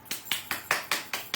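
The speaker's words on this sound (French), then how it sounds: "On l'applaudit" Steady, evenly spaced hand claps, about seven in quick succession, sound close and fairly quiet as a small group applauds Monique on a live French-language broadcast.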